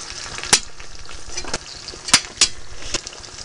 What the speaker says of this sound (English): All my pieces of fish now are in. I'm gonna let them sort of saute fry.